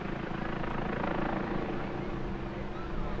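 A Westland Lynx helicopter flies nimble manoeuvres at a seaside airshow, its rotor and engine roar a continuous loud, dense drone throughout with no pauses.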